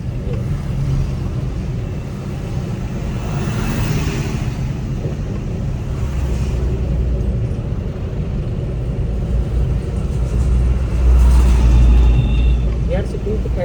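A car engine pulls in second gear after a downshift from third at around 20–22 on a busy road. The low, steady cabin rumble swells slightly near the end while a voice talks over it throughout.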